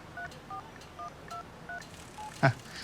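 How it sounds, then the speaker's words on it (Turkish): Phone keypad tones as a number is typed in: a quick series of short, evenly spaced dial beeps, close and clear, ending in a louder tap or thump, with no talking. "Sen çevir bana telefonu ben yazayım numarayı."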